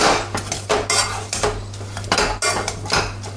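A utensil mashing banana with cream and sugar in a saucepan, close and loud, with repeated irregular clanks and scrapes of metal against the pan.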